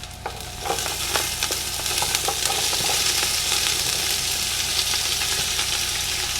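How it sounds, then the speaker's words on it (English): Garlic sizzles steadily in a pan of hot oil with fennel, a continuous close frying hiss broken by a few clicks and stirring scrapes at the start, with no voices. "I'm gonna go ahead and get all of our garlic in."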